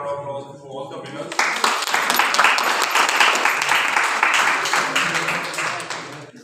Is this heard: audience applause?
yes